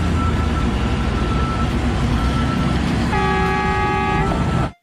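A toy mining truck sounds a loud electronic horn followed by a run of steady reversing beeps near the end, all over a constant background rumble and hiss.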